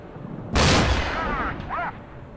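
Tank gunfire in the PC game Gunner Heat, a single sharp, loud blast with a booming tail and a short ringing echo afterward, standing alone without talk.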